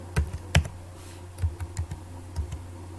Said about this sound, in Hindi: मैं यहाँ पे लिख देता हूँ आईडी कार्ड नंबर